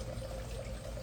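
Coconut milk being poured into ada pradhaman, a traditional Kerala rice-flake payasam for Onam sadya, making a steady, continuous close pour with an even liquid trickle throughout.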